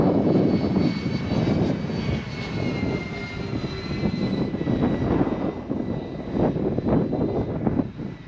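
Twin engines of a radio-controlled scale F7F Tigercat warbird run at half throttle, a steady loud buzzing drone with gusty wind rumble across it, heard close and unbroken with no talk.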